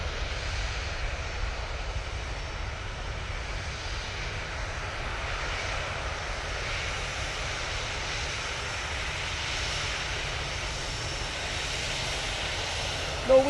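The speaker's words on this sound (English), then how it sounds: "It's Ryanair 737 MAX 8 off to Malta." Ryanair Boeing 737 MAX 8 jet at Manchester Airport, heard as a steady, broad engine roar that holds at a distant, even level for the whole stretch, with no voices over it.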